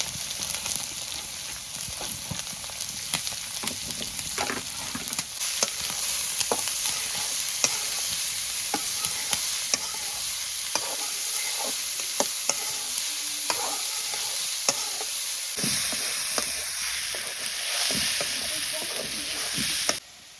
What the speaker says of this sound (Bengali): পেঁয়াজ কাঁচামরিচ দিয়ে দিতেছি বেশি করে, পেঁয়াজ লাগে এই শাকের ভিতরে।